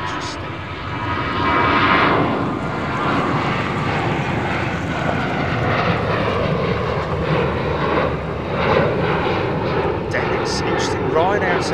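Airliner engines at Chicago O'Hare airport, a loud sustained roar that swells and holds steady for several seconds, with a voice talking over it.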